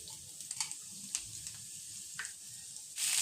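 Whole cumin seeds, chopped ginger and a pinch of asafoetida crackle and sizzle in hot oil, a steady close fizz dotted with small pops, swelling louder near the end with no talking.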